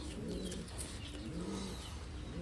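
A large Taiwan pigeon coos softly in low, rolling phrases, repeated steadily over a faint hum with light background noise.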